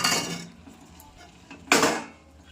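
Boiled new potatoes tipped into a pan of fried-down spice masala for Bengali aloo dum, giving a soft clatter of pan and utensil, then a single louder scrape-and-clunk partway through.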